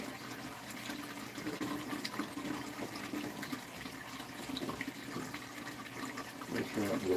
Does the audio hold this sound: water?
yes